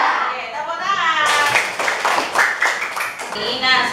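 A class of sixth-grade children claps together in a rhythmic burst lasting about two seconds. A woman teacher's voice speaks before and after the clapping.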